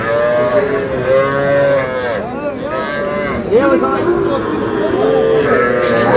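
Several heifer calves moo loudly and repeatedly, long low calls overlapping one another close by, with some people's voices in the background at a cattle market.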